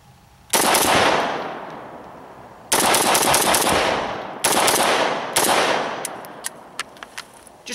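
An Arsenal SGL31-94, an AK74-style rifle fitted with a muzzle brake, fires several loud rapid bursts close by, followed by a few quick separate shots.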